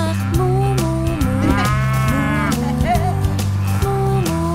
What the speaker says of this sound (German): Die Kuh hinten drauf macht Mu, Mu, Mu